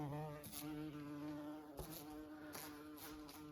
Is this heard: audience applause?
no